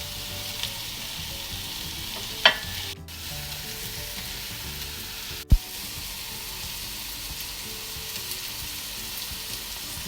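Spices hit hot oil in a pan while rice is cooked for grilled fish, a constant close sizzle and frying hiss broken by a couple of brief knocks, with no talking.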